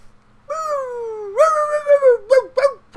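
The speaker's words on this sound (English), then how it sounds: "you gotta bark in the microphone" A dog vocalizes right into a microphone, letting out long drawn howling whines followed by a couple of short sharp yips, loud and close with no speech.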